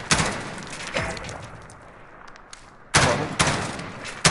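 Gunshots are fired through a hole in a wall, each landing as a loud, sharp close blast with a rumbling tail, several spaced shots with a two-shot burst near the end.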